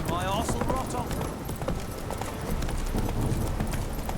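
A horse gallops in The Witcher 3, its rhythmic clip-clop hoofbeats running steadily under wind and ambient game noise, with a voice calling out over the ride.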